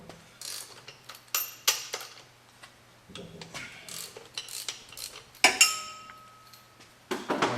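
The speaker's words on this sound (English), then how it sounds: "So we'll just loosen these 3 bolts up." Ratchet loosening three bracket bolts on a 2015 Mustang during a BARTON shifter install, heard as bursts of quick metallic clicking with clinks and pauses over a low steady hum, close and moderately loud.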